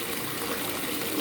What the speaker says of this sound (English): this one is disintegrating rather fast, so that's a good thing, actually, when you're trying to make bubbles.